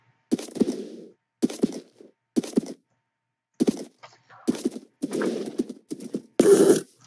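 Horse hooves in Minecraft Windows 10 Edition, heard as short bursts of clattering hoofbeats separated by brief silences, loud and close, with no speech.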